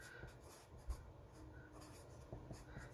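Pencil writing on paper, with soft scratchy strokes and short pauses, faint and close in a quiet room.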